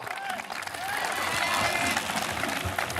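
A crowd at a velodrome applauds and cheers as a cycling race gets underway, the clapping swelling into a dense, loud wash that holds steady to the end.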